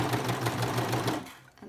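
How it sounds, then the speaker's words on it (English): A serger runs fast and steady up close, sewing clear elastic into a seam with a dense, rapid mechanical chatter that stops abruptly near the end. "Go ahead and serging it in there."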